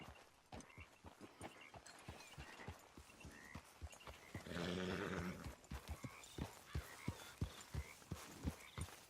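Steady clip-clop of horse hooves walking at a regular rhythm in Red Dead Redemption 2, close and clear, with a brief whinny partway through.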